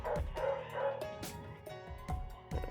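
Several dogs bark and yip in the background over a phone line, in short, repeated bursts that overlap one another.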